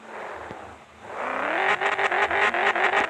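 A Volkswagen Golf engine revs hard while the car reverses, rising sharply from idle into a loud, climbing whine with pulsing throttle bursts near the end, close and with no talk.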